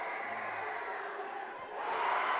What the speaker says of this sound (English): And the crowd getting into it.